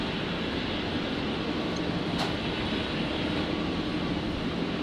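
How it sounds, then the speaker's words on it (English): An Alliance Airlines Fokker jet taxiing at Brisbane Airport toward runway 01 left for departure, a steady broadband engine roar at constant loudness, moderately close with no voices. "So we're looking at the Alliance Fokker"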